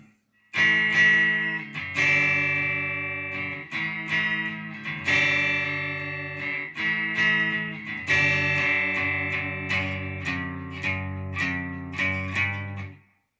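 Overdriven electric guitar plays the chorus as a run of loud, sustained power chords with steady strums, close and alone with no voices.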